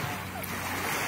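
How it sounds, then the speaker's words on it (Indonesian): Gentle sea waves wash ashore at Pantai Labun beach in Desa Limus, South Bangka, a soft, continuous surf hiss with some wind noise. "gelombangnya nggak terlalu kencang gitu"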